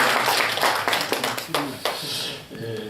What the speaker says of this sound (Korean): 다시 한번 박수 힘차게 쳐주시죠.